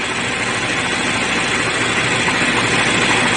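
A 2013 Chevy Malibu with a no-start fault idles with its ground cable unhooked, a steady, even engine drone with low rumble and broadband hiss, running alone and unbroken throughout.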